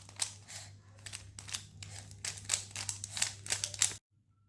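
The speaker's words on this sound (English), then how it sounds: "So I'm going to shuffle the cube" Rubik's cube being shuffled by hand: a rapid run of dry plastic clicks and clacks for about four seconds, close and fairly loud over a low steady hum, stopping abruptly.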